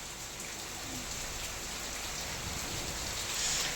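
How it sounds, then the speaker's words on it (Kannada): Light rain falls steadily outdoors as a soft, even patter of drops on surfaces, continuous and moderately quiet throughout with no voices. "ಸಣ್ಣಗೆ ಮಳೆ ಬರ್ತೈತೆ ಮಳೆ ಬರಲಿ"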